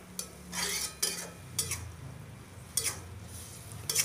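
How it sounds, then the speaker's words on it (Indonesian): A spatula scrapes and stirs water spinach in a frying pan in several short strokes, with a soft sizzle underneath. "Kita aduk lagi sampai airnya mendidih."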